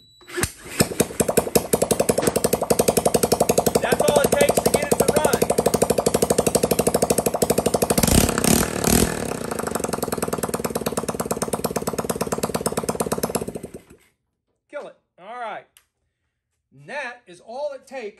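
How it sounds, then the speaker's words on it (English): A loud, steady mechanical grinding as a drill cranks a small Lifan engine over for about fourteen seconds, then it stops and a few short voices follow. "I'm just going to take a drill and turn it over."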